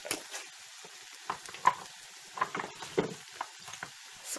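Chicken pieces are turned in a pan, giving faint scattered scrapes and light clicks over a soft, low sizzle, quiet and close, with no talking.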